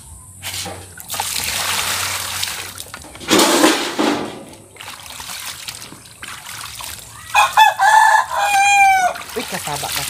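A rooster crows near the end, loud and close, after splashing water and household noise with faint talk in the background.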